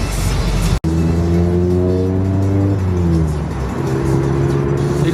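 Engine and exhaust of a modified Mazda Miata with a changed exhaust drone steadily at close range, the note easing through a shift midway and settling into a smooth, throaty hum.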